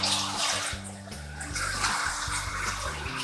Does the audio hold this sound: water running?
yes